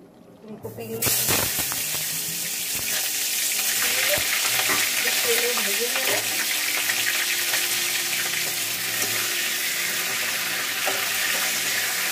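Shrimp fry in a pan with a loud, continuous sizzle and spatter after a brief quiet start, occasional stirring scrapes and faint background sounds running through the dense frying hiss.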